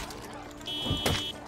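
A steady electronic alarm tone starts partway through and holds for about a second in the survival game Project Zomboid, sounding mid-distance over background game noise while people talk.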